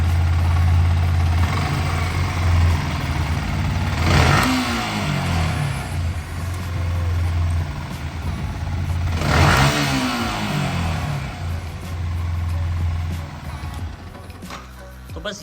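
A Yamaha R15 V3 motorcycle engine with a variable valve actuation system idles steadily, then revs up sharply twice with rising and falling pitch, loud and close, settling back to idle and fading near the end.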